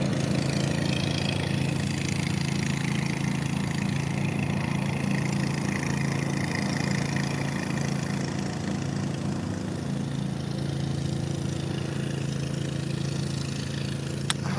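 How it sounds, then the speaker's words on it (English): A lawnmower cutting grass in the distance near a playground, heard as a constant mid-pitched engine drone that holds steady and unbroken throughout. "You can see, hear the noise from the lawnmower."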